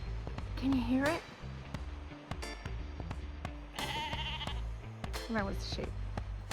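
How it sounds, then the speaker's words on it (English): Sheep bleat in the Black Valley on the Kerry Way in Ireland, several wavering calls spread across a few seconds, fairly close, with people talking alongside. "That was the sheep."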